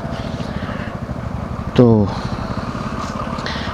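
Motorcycle engine idling at a red light during a Rajasthan road ride, a steady low rumble running throughout beneath someone talking, with a brief louder tonal blip partway through.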